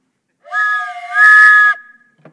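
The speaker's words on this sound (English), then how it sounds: "Can't you hear that whistle blowing?" A steam locomotive whistle sounds two long, loud chord-like blasts, the second brighter and hissier, then fades out leaving quiet.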